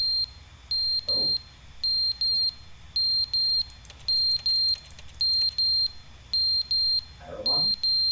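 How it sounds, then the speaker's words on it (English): Repeated electronic beeping from a fire alarm or carbon monoxide detector in the video game The Stanley Parable, steady paired chirps throughout, with brief voices and clicks underneath. "Fire alarm? Yeah. Carbon monoxide detector."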